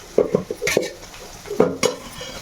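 Cumin and mustard seeds frying in oil, with a utensil knocking and scraping against the pan in quick bursts over a light sizzle, close and fairly loud.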